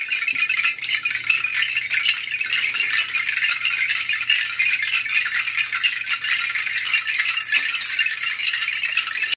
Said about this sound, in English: changing the sound that those spicules make when they hit together